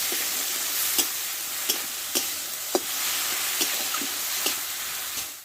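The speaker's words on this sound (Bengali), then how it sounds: "দিয়ে মশলাটা এবার ভালো করে আমি কষে নেব" A paste of ground cumin, green chili and ginger frying in oil, a dense, close hiss with soft taps of a spatula roughly every half second to second.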